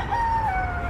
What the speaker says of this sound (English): There's like chickens chasing each other in the background.